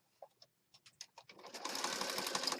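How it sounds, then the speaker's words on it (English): A sewing machine stitches through a junk journal, starting with a few scattered taps and then settling into a continuous close whir for the last second or so. "We're sewing in a junk journal today."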